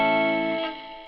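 Axe-Fx III guitar amp modeler with its drive distortion effect engaged: a loud, buzzy distorted guitar chord sustains and then decays over about a second, with no voices.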